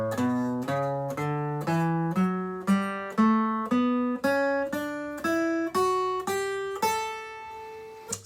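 Single plucked notes climb the A Mixolydian scale on guitar, about a dozen clean notes played one after another at a steady, moderate pace, each ringing briefly, close and clear with no talking.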